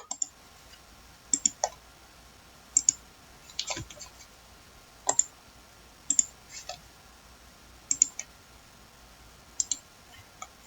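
A computer mouse clicks repeatedly during work in remote-sensing image software, with sharp, quiet clicks arriving singly and in quick pairs every second or so over a faint background.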